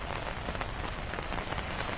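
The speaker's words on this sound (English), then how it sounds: "a downpour on Thursday that brought unprecedented floods" Heavy rain pouring down in a steady, dense roar across the temple town of Tirupati in South India, a continuous wash of drops hitting surfaces with no voices present.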